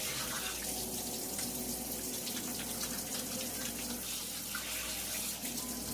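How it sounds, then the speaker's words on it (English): Tap water runs steadily into a sink as hands are rinsed during home canning prep for raw chicken, a continuous close wash with no talking. "let me wash off my hands"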